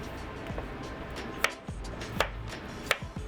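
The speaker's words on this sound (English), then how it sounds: "I'm just gonna give these a quick chop." Vegetables for shepherd's pie are chopped with a knife on a board, several crisp irregular knocks over a low background hum, close by with no talking.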